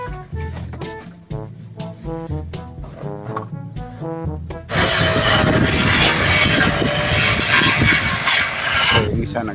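Engine of a grass cutter running in a farm field, a loud, steady broadband drone that kicks in halfway through after a stretch of rhythmic tonal sound, continuing close and unbroken to the end.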